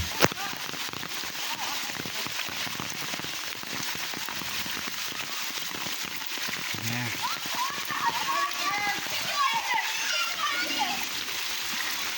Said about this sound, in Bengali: ছেলে মেয়েরা কত সুন্দর বৃষ্টির পানিতে খেলা খেলছে দেখুন